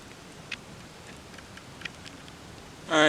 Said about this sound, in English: Just waiting out a little rainstorm.